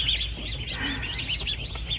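Young ducks, some of around four hundred caught outdoors in heavy rain, give a constant chorus of high cheeping calls nearby over a low background rumble.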